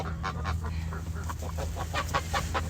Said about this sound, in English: The geese are not happy with me